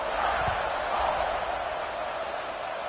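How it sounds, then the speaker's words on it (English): Stadium crowd buzzing after a score in the NCAA College Football 26 video game, a faint, steady, even roar. "this crowd is buzzing after that last score"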